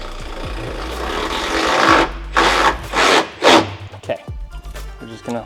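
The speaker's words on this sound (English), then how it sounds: "just gonna kind of wiggle it a little bit back and forth" A bed stiffener bracket on a 4th-gen Toyota Tacoma is wiggled back and forth with a spacer fitted, making loud, close scraping and rubbing strokes in several distinct pulses.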